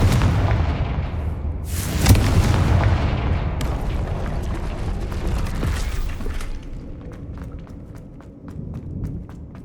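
A fiery Confringo spell blast in the Hogwarts Legacy video game erupts near a poachers' camp, a loud booming burst followed by a rumbling, crackling tail that fades out over several seconds.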